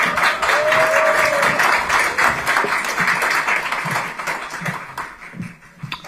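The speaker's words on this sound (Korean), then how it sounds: "박수 부탁드립니다" Applause at a party founding ceremony: dense crowd clapping, loud at first and gradually thinning and fading toward the end.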